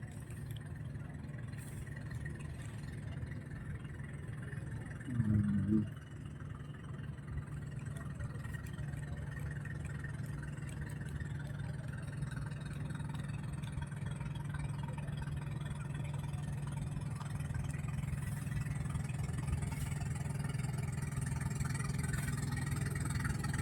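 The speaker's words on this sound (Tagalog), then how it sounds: "Motor bangka." Motor bangka, a motorized outrigger boat, chugs along near the seawall by Manila Bay, its engine a low steady drone that holds faintly throughout amid open outdoor ambience.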